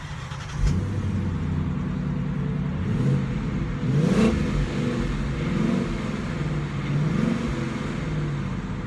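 Ford Mustang GT engine starting with a sharp catch, then idling with a low rumble and rising in several revving swells, steady and close throughout.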